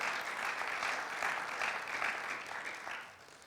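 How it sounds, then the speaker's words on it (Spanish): Church congregation applause during a sermon, a soft, even wash of clapping at moderate distance, fading slightly near the end. "¿Puedes darle un aplauso al Señor por eso?"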